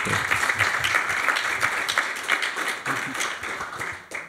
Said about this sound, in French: que je vous invite à applaudir